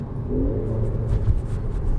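A 2018 Mercedes-AMG GLA45 engine in Sport Plus mode with the sport exhaust active drones with a deep, steady rumble heard from inside the car, rising slightly under throttle, with no talk over it.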